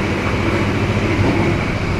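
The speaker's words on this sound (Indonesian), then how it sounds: "Ini keretanya udah ngerem teman-teman." An Indonesian passenger train braking as it approaches Probolinggo station makes a loud, steady rumble and roar heard from inside the carriage, continuous with no talking.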